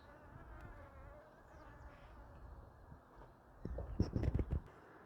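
Insects buzz faintly across a wildlife meadow in early season, a thin steady drone beneath soft outdoor ambience that swells into louder, closer buzzing passes near the end.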